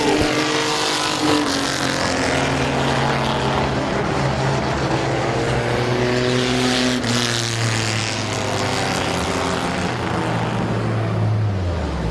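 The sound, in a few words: race trucks racing at Midvale Speedway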